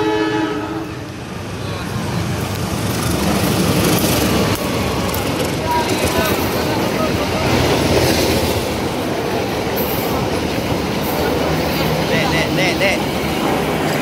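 A CC 201 diesel locomotive hauls the Dharmawangsa passenger train past at close range, a loud, continuous roar of engine and rolling wheels with rail clatter throughout.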